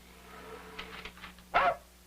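A dog gives a few soft whimpers and yips that end in one louder bark, close by, over a low steady hum in an old television advertisement for Ajax cleanser.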